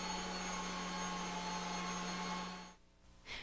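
A Kirby G5 vacuum runs with its turbo accessory fitted as a scouring pad on a hard surface, giving a loud, steady whining drone with a low hum that cuts out briefly near the end before surging back.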